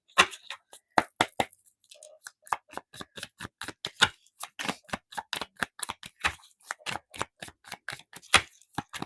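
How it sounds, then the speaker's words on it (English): A deck of tarot cards being shuffled, with dense rapid rhythmic riffling and flicking in close, crisp bursts across several seconds, without any talk. "let's go ahead and get some cards from this deck"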